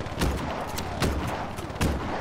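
Gunfire in the video game Just Cause 3, with three loud distinct shots spaced roughly a second apart over a busy rumbling background.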